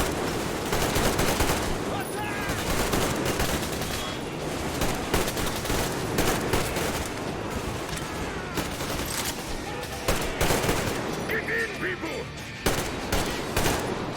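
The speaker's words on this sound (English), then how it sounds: "Where am I getting shot at from? Oh, they're coming in from multiple angles." Heavy sustained gunfire in a Metro Exodus battle, with dense overlapping bursts of automatic shots coming from several directions for the whole stretch, barely letting up.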